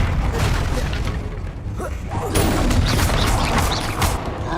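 The Incendio fire spell erupts in Hogwarts Legacy combat, loud rumbling booms and crackling bursts of flame rolling on for several seconds, with a brief voice call blended in.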